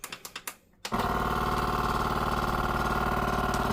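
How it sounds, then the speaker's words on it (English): A few sharp clicks, a brief pause, then a vacuum sealer's loud motorized pump starts, sucking air from a bag around a beef sirloin steak with a steady, buzzing drone. "Let's go ahead and vacuum it up."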